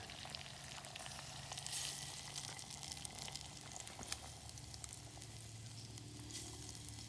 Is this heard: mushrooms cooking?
yes